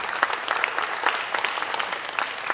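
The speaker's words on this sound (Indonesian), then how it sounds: "Udah seperti tepuk tangan" An audience of content creators gathered for Anies Baswedan's speech applauds a young creator named Daris, with moderate, crisp clapping and scattered sharp individual claps throughout.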